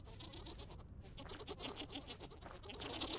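A goat bleats faintly in the survival video game Vintage Story, a quiet wavering cry over a soft, continuous background of game ambience.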